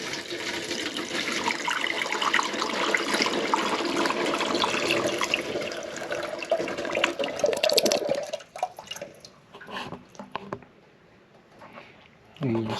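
Liquid barbecue sauce poured through a funnel into a plastic tea jug, a steady close splashing trickle for about eight seconds that then thins out and stops, with talk alongside.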